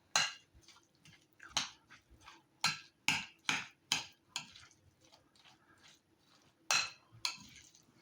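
A spoon stirs guacamole in a bowl, striking the bowl in sharp, irregular clinks and knocks, some close and loud, others softer, with quiet squelching in between.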